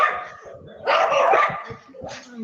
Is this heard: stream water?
no